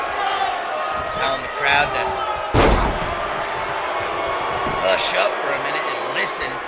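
At a televised independent wrestling show, a wrestler's neck slams onto the ring canvas with one loud, sharp thud midway, under continuous commentary and crowd noise.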